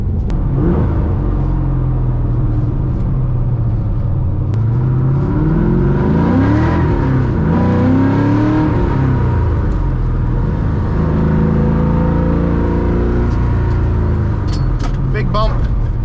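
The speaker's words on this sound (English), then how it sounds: "there's just nothing like hitting full throttle on an LS and just going, regardless of your RPM" A 450 hp LS V8 swapped into a BMW E36 M3 pulls hard at full throttle, a loud, steady engine roar with rising whine heard from inside the car, sustained throughout, with a voice talking over it.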